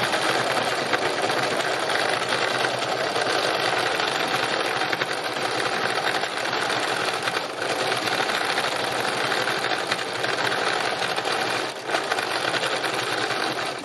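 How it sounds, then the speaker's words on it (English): A sewing machine doing free machine embroidery runs in a fast, steady, close mechanical whir of needle strokes, continuous and alone for the whole stretch. "So I'll carry on stitching this bit"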